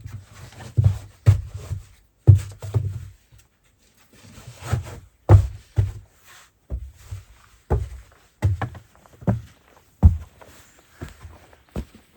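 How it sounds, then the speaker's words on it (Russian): Nails are hammered while building an underground house: an irregular series of dull, heavy thuds in short bursts of two or three blows with brief pauses between them, close and fairly loud. "Еще вот здесь сейчас прибью."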